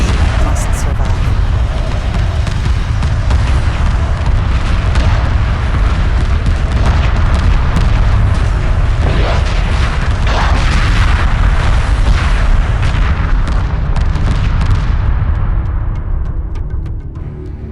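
Massive explosions roar as the Tanis base is destroyed in the space strategy game Homeworld 2, a loud, continuous rumbling barrage of booms and blasts that fades out at the end.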